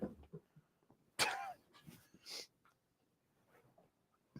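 A fluffy dog waits indoors, giving faint, intermittent whimpers, snuffles and soft breathy whines in short bursts with quiet gaps between them.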